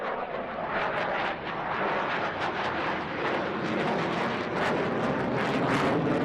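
Loud, continuous jet roar from F-15C Eagle fighters of the 159th Fighter Wing at an air show, a broad rushing wash that swells slightly toward the end with no talk over it.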